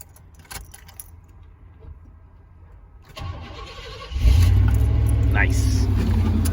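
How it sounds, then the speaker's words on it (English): Chevy Silverado OBS pickup truck engine cranking and catching, rising from quiet shuffling and faint key jingles into a loud, steady running rumble close by. "I'm gonna go ahead and start the car and we'll see whatever happens."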